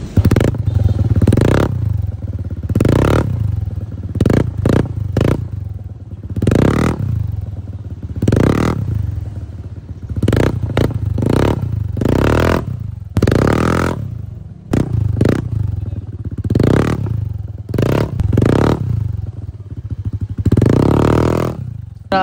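A Yamaha NMAX V2 scooter fitted with a Kvin exhaust pipe revs repeatedly, close and loud, with bursts of deep exhaust roar and brief idling gaps between them.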